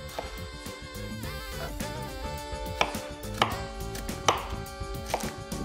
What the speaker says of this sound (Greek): Κόψω το μικρό μπρινουάζ εδώ πέρα για να μας βοηθήσει να το μαγειρέψουμε γρήγορα.